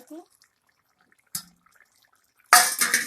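A metal lid set down over a pot of thin rohu fish curry with cauliflower in a home kitchen, heard as a loud, close clatter and ring lasting under a second after a few faint small knocks.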